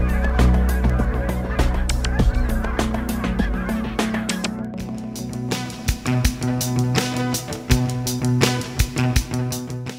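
A flock of geese honking loudly and continuously at close range, overlapping nasal calls in a dense chorus with a low rumble underneath early on and sharper individual honks standing out later.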